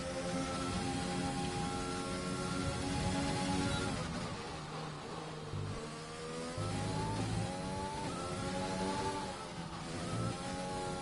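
An F2 race car engine in a racing video game, on the Australian GP circuit: a loud, continuous high-revving engine whine rising and falling through gear changes and throttle lifts, with no talking.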